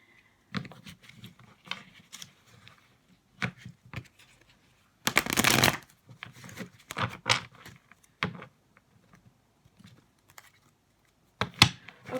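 A deck of cards is shuffled in several quick riffling bursts, with one louder, longer riffle near the middle and a final burst at the end, up close in a quiet room without talk.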